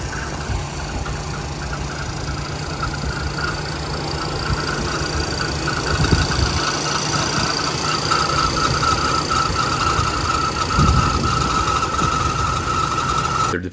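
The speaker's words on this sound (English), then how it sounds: "The engine started on the very first try, just like it had been running 5 minutes ago." A 1977 Lincoln Mark V with a 6.6L V8 idles steadily just after a first-try start, following years in a scrap yard, giving a continuous low rumble with a faint ticking throughout.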